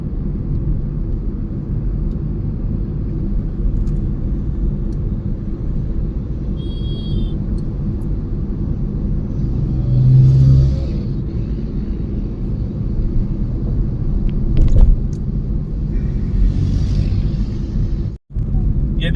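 Steady low rumble of crawling Delhi jam traffic heard from inside a car, engines and road noise droning continuously with faint passing vehicle sounds and a brief dropout near the end.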